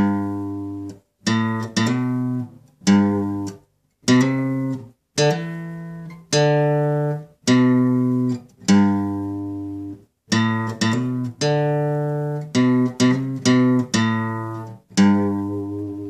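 Slow guitar intro riff of a song, a plucked melody with hammer-on notes, played clearly and alone in separated phrases with short pauses between them.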